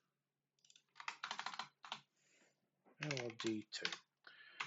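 Computer keyboard keys clack in quick clusters of close, crisp keystrokes, mixed with someone speaking briefly between and over the typing.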